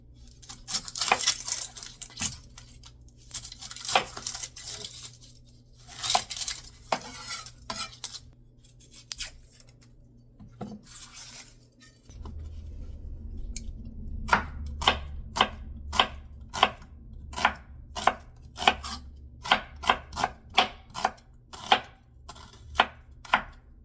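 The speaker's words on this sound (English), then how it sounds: "I'm gonna chop up a whole bunch of onions, as much as I can fit into that pot" Onions being chopped by hand on a cutting board for French onion soup, a loose run of knife strikes that turns into a steady, close, crisp series of distinct chops with a low hum underneath.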